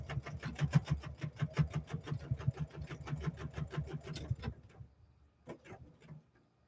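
A sewing machine back tacking while stitching a small wallet, a rapid mechanical chatter of needle strokes running for several seconds, then stopping, followed by a few light clicks and handling noises.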